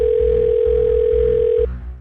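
Steady telephone dial tone during a call being placed, one unbroken loud tone that cuts off near the end, with a faint low hum pulsing beneath it.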